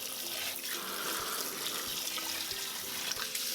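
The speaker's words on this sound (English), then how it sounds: "We're going to discard the water and rinse everything." Tap water runs steadily into a sink as the water from boiled pho beef and bones is poured off and the pot ingredients are rinsed, a continuous close splashing hiss with no talking.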